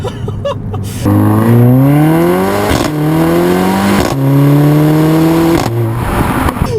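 A 2014 Mercedes-Benz CLA45 AMG with a 355-horsepower 2-liter turbocharged four-cylinder accelerates hard on a back road, its loud engine pitch climbing through several gears with sharp breaks at each shift.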